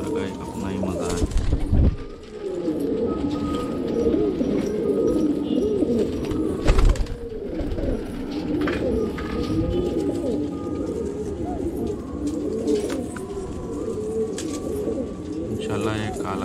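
Guldaar pigeons coo in low, rolling murmurs throughout, close and steady, with several birds overlapping; a brief thump interrupts near the start and again midway.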